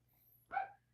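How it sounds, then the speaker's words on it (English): A dog gives a single short, fairly faint bark or yip, protective in tone, against a quiet low hum. "My dog is trying to protect me."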